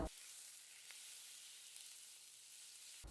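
Coconut pieces and pork sautéing in a pan for Kerala-style pork varattiyathu, a soft, steady sizzle and hiss, fairly faint and close, with brief knocks at the start and end.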